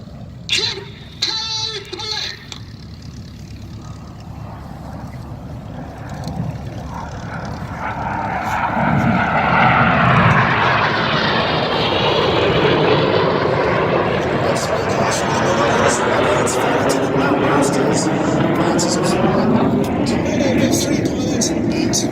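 Red Arrows aerobatic jets at the Duxford air show swell from distant to a loud, sustained roar that sweeps overhead and lingers, with an announcer's commentary heard at the start.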